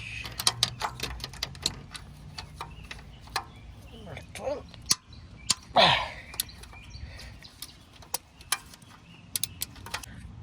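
A wrench loosening a bolt on the lower oil cooler hose of a 2008–2019 Toyota Highlander 3.5L V6: rapid close ratcheting clicks in quick bursts, with a brief scrape of metal in the middle.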